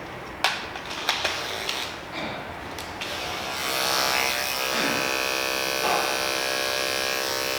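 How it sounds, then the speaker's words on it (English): Electric hair clippers fitted with a 0A detachable blade buzz steadily while cutting a guideline for a bald fade, after a few light clicks and taps at the start. "I'm getting ready to create my first guideline with the OA blade."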